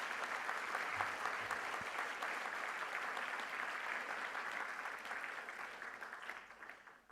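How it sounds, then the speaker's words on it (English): An audience claps together in a round of applause at a school awards event for the official launch of LifeLink Day 2017. The clapping is dense and sustained, then fades out toward the end. "So we give them a round of applause."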